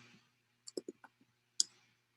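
Quiet keyboard typing in a coding session, a short burst of about six soft clicks with a final sharper keystroke, alone against near silence.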